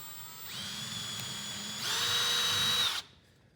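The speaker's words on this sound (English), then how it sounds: "Push the drill bit down through the board." Power drill spinning a bit down through a wooden board, a steady close whine that rises in pitch and load midway, then stops abruptly as the bit clears the wood.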